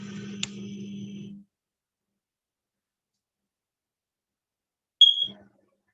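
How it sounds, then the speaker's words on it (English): A fire alarm with a low battery gives a single short, high chirp that stands out alone against silence, after a brief stretch of low hum and faint background noise. "Okay, Ms. Tovar, you need to change the battery on your fire alarm. It's no longer working. It's chirping"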